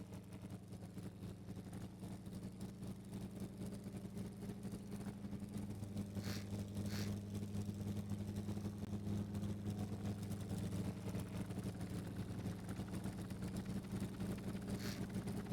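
An engine drones and revs in the Stormworks build-and-rescue game, a steady low mechanical hum with tonal bands that swells slightly louder partway through, close and continuous, with a few brief hissy bursts and no talk.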